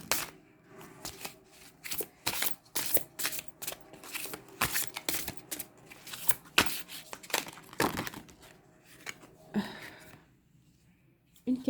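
Large tarot cards being shuffled by hand, a dense run of close riffling flicks and papery slaps in irregular bursts, trailing off near the end.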